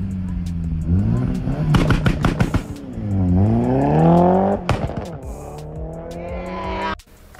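Turbocharged car engine revving hard through rising and falling gear pulls, loud and close, with harmonics sweeping up and down before cutting off abruptly near the end.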